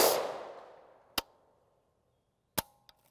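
A single loud 300 AAC Blackout shot with a 220-grain OTM load from a 7.5 inch PSA pistol, decaying quickly, followed by a few sharp metallic clicks and clacks.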